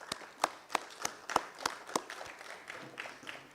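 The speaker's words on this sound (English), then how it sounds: "let's keep clapping for him" An audience at an industrial summit in Ghana claps for a presenter from Unilever Ghana, giving sparse, distinct handclaps in a loose rhythm that thin out and soften toward the end.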